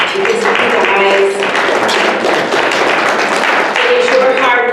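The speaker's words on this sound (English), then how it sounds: "So give yourselves a round of applause" Crowd applause from an audience at a legislator's keynote event, a dense continuous wash of clapping that holds loud and steady throughout without letting up.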